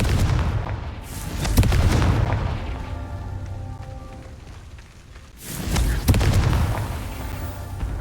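The Confringo spell goes off in the video game Hogwarts Legacy as a pair of deep booming blasts. Each is loud and close and trails into a rumbling decay, with a quieter crackling lull between them.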